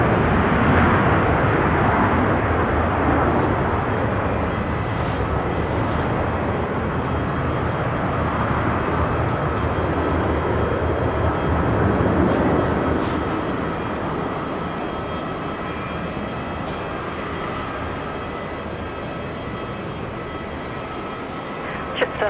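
Jetstar airliner taking off at night from runway 16 right at Sydney Airport, a broad sustained jet roar building and holding, then easing slightly, with radio talk over it.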